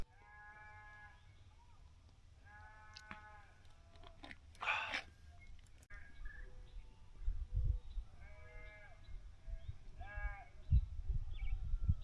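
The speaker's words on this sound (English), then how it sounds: "You hear these goats, sheep, whatever?" Several sheep or goats bleat in short wavering calls on a farm, some near and some farther off, with rustling and thumps in between.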